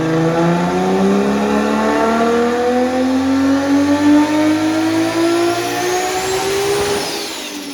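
A powerful turbocharged AWD Nissan S13 engine of about 900 horsepower revs up loudly and steadily, its pitch climbing over several seconds before easing off at the end.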